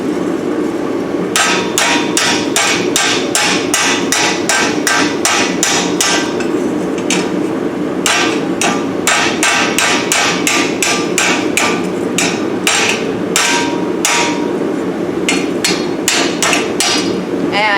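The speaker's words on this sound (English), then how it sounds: "I'm using one of these fancy ball peen hammers." Ball peen hammer forging hot iron on an anvil: loud, close, steady rhythmic strikes in long runs, with brief pauses between sets of blows.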